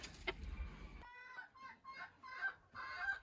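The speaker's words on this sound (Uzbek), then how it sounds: "Mana xo'rozi qichqirishni boshladi." Rooster of a Korean, Japanese or Sebright chicken breed crowing nearby at a poultry sale in Uzbekistan, a few loud stretched calls following an initial rustling burst, with no talk over it.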